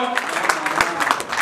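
A crowd at a fundraising gathering claps briefly for a donor, a short burst of scattered applause with a voice over it.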